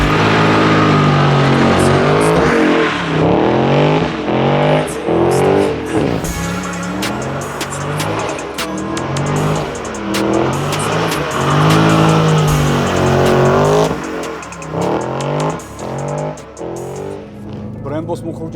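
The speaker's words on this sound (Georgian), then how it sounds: "გავერთობით თუ არა 8 ცილინდრიანი ატმოსფერული ძრავით ჩარჯერით." A Dodge Charger SRT 392 with a naturally aspirated eight-cylinder V8 is driven hard, its engine rising and falling in repeated loud revs while tires squeal, with someone talking continuously over it.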